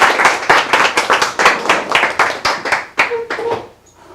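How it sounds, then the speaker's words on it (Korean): Audience applause welcoming the head of a company to the stage at a franchise store-development lecture, a burst of close hand claps that rises quickly, holds steady, then thins out and fades by the end. "큰 박수로 모시겠습니다"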